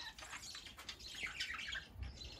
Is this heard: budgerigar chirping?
yes